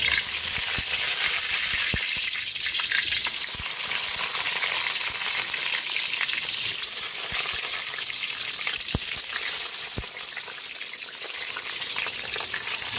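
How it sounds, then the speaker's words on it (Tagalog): Eggplant fries in a pan with a steady, dense sizzle and crackle throughout, broken by a few sharp pops and clicks near the cooking, with no voices. "Piprito na tayo ng ating talong habang pinalalambot natin yung ating patatas."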